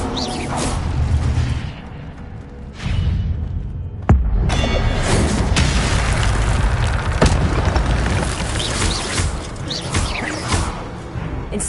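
An Incendio fire spell cast in the Hogwarts Legacy video game erupts in loud whooshing bursts and deep booms, repeated several times over a dense, rumbling bed of game sound.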